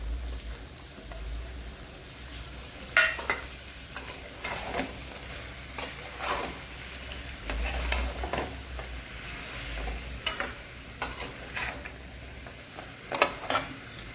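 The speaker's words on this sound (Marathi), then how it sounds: "आता ही भाज्या आपल्या परतत आलेल्या आहेत" Mixed vegetables, including brinjal and flat beans, sauté in a pan for a traditional bhogi bhaji, a soft steady sizzle with intermittent scrapes and clinks of stirring, close and fairly quiet.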